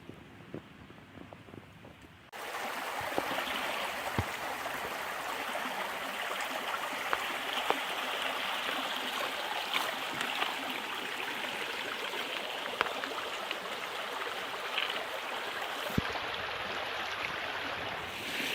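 Steady rushing babble of a flowing creek in Uwharrie National Forest, fairly close and continuous, starting abruptly after a brief quieter moment.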